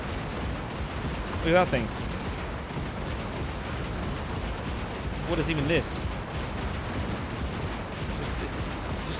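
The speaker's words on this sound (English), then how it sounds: "It's like a revolving cannon." Revolving cannon on an experimental super tank firing in the Gates of Hell war game, two short bursts of rapid shots over a dense rumbling battle din, while someone talks throughout.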